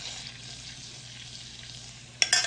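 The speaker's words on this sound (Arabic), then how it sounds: "وهنا دوبت شوية زبدة وهي حارة، حضيف عليها شوية توم." Garlic sizzles in hot melted butter in a pan, a soft steady frying hiss that ends in a couple of sharper crackles.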